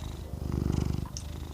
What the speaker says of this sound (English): If you can hear my cat purring